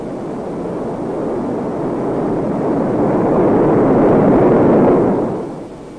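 A rocket sled tested at speeds over 1,000 mph gives a steady, loud rushing roar that swells toward its peak and then begins to fall away.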